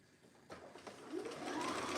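A sewing machine stitching the sleeve of a dress, starting at the underarm, with a faint start followed by a steady, rising mechanical whir that grows louder and close up.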